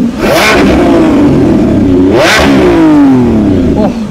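A Lamborghini Revuelto on its stock exhaust revs hard and loud, the engine note climbing and falling in repeated sweeps toward a soft limiter around 8,500 rpm, close and continuous.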